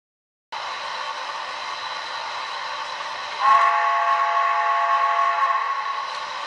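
A train rolls along with a steady, loud whistle tone that starts abruptly, then grows brighter and stronger partway through before easing slightly near the end.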